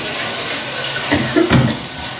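Water is poured into a pot, a steady rushing flow with a brief gurgling surge near the end, close and fairly loud.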